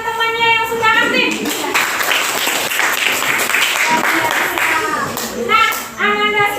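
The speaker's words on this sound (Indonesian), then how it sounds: "Tepuk tangan bagi teman-temannya yang sudah aktif." Schoolchildren in a classroom clap for their classmates, a burst of rapid clapping between stretches of a teacher speaking, with the clapping loud and close.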